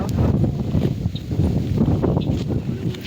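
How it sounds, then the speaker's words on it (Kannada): A cool wind blowing outdoors buffets the microphone in a loud, continuous rumbling roar with gusty swells, close and unbroken across the whole moment. "ತಣ್ಣಗೆ ಗಾಳಿ, ತಣ್ಣಗೆ ಗಾಳಿ ನೋಡಿ"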